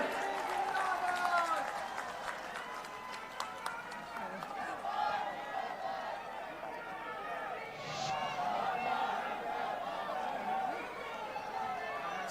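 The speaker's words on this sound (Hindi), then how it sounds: "ताली बजती रहनी चाहिए।" A large crowd applauds and cheers at an outdoor election rally in Bastar as Priyanka Gandhi is welcomed, a steady dense wash of clapping and crowd noise that runs throughout, with an amplified voice over the top.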